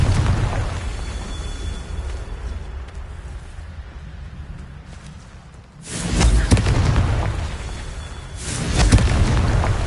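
The Confringo fire spell in Hogwarts Legacy bursts into two loud booming explosions with a fiery roar, the second following a few seconds after the first, both rising out of quieter ambient rumble.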